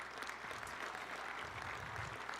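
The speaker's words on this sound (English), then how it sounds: "Please give him a round of applause for being up here." Faint, steady applause from the audience at a hockey award banquet honoring high school players, a continuous wash of distant clapping throughout.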